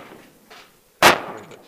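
One sharp, loud Glock 19 pistol shot cracks close by on an outdoor range, standing out abruptly from near silence and followed by a brief fading echo.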